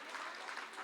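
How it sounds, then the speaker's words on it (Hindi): An audience at a Hindi poetry recital applauds, with a girl among them clapping: a short, even burst of many hands clapping at moderate volume. "देख, वो बच्ची भी तालियां बजा रही।"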